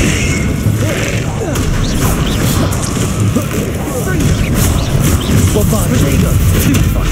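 Bombarda and Confringo explosion spells go off in a Harry Potter video game, sending thudding booms and crashing blasts through dense, continuous battle noise while a voice is heard among the action.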